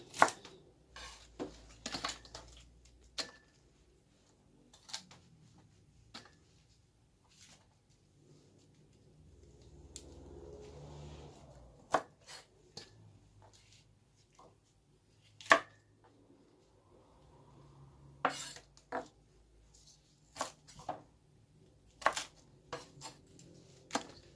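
A knife chops Chinese cabbage on a cutting board while kimchi is being prepared, making sharp, close, irregular strikes separated by quiet pauses, with no talking.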